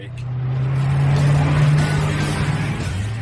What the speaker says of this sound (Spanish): Cuando pones en marcha el motor, evidentemente la cabina se inunda con el sonido del motor.